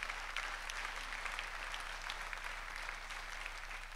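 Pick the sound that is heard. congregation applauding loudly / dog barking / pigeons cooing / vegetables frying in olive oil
congregation applauding loudly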